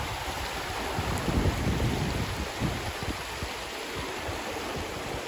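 Steady broadband rush of river water at the confluence of two cold rivers in Washington, a continuous outdoor flow with low churning surges, close and fairly loud, with no talking.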